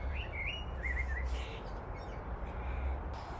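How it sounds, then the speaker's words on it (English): Birds, including cawing crows, call and chirp in a mid-winter garden over a steady background hum, moderately distant and fairly faint. "Listen to those birds."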